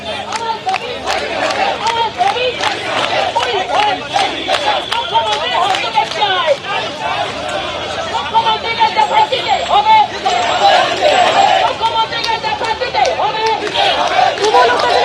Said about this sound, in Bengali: ময়দানে এসএলএসটি চাকরি প্রার্থীরা বিক্ষোভ দেখাচ্ছিলেন, সেই বিক্ষোভ মিছিল আটকে দেয় পুলিশ